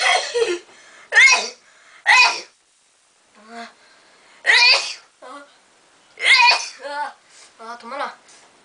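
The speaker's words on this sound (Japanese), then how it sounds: "普通にまずくしゃみしてみましょうか。" Repeated sneezes, sharp close bursts, several in a row with quiet gaps between them, while a person is doing a sneeze challenge at home.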